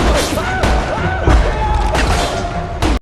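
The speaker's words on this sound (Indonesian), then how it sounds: "dia pun berusaha untuk menembak Harley dan Nolan." A rapid burst of sharp gunshots cracks through a loud, chaotic mix, with several shots close together and a final abrupt bang before it cuts off.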